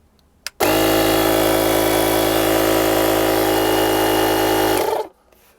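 Air compressor built into a JF.EGWO PRO 3000amp portable car jump starter, a loud steady buzzing motor drone that kicks on after a click, holds even for about four seconds, then cuts off abruptly.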